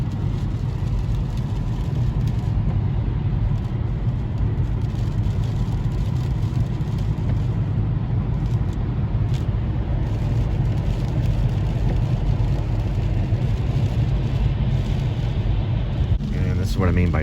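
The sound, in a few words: road traffic near Fort Worth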